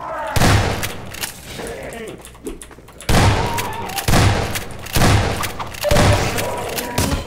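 Gunfire from the Half-Life 2 mod Cosmonaut: a run of loud, sharp shots in four or five distinct bursts, each with a short booming tail, separated by quieter game ambience.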